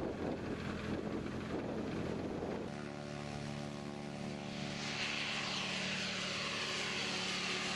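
Light aircraft with a 180 hp turbocharged engine at an aircraft factory open house, a loud, continuous propeller drone buffeted by wind, settling into a steady tonal engine hum partway through; no talking.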